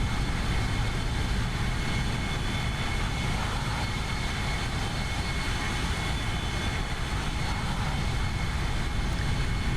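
Loud, steady broadband roar of A321 airliner jet engines heard from an outside view in the X-Plane 12 flight simulator, a constant drone with no breaks and no talking.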